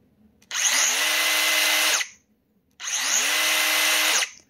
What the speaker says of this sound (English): let's go back to listening for sound, starting with the DeWalt.